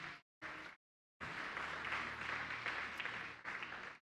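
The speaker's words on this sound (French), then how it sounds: "On peut acclamer la parole du Seigneur." A church congregation at a Sunday service claps in two brief bursts, then breaks into sustained applause that fills the room and holds steady for several seconds.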